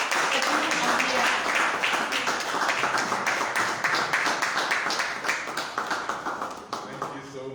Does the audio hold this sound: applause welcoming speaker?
yes